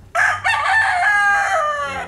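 A Tagalog fighting rooster crows once, loud and close, in a long sustained call that rises sharply, holds for nearly two seconds and tapers off at the end.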